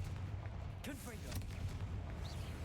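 A Confringo fire spell cast in the game Hogwarts Legacy, a short burst with a rising whoosh over a steady low rumble, with a voice briefly speaking.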